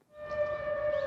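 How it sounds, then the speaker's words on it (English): Air raid sirens in Seoul, South Korea, give a steady, sustained wailing tone with harmonic overtones that swells in and holds, sounding distant and mournful, with no voices. "What you just heard were wailing air raid sirens."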